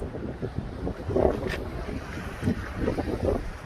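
Ocean waves and wind at the shore, a steady rush of surf under heavy buffeting wind noise on the microphone, close and continuous, with no clear talking.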